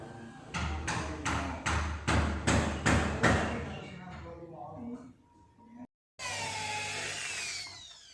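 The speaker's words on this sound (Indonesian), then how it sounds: "Ambilnya itu dibur dulu ya, buat dikasih paku." A power drill bores into a wooden door to make holes for nails during a door patch repair, giving several loud, rhythmic bursts of drilling that then fade, with a brief pause before a sustained whirring drill run.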